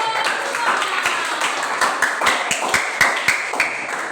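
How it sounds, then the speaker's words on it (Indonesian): Classroom applause for a student group that has just presented, scattered hand claps pattering steadily throughout, moderately loud and close, with a murmur of voices underneath. "sekali lagi tepuk tangan untuk kelompok"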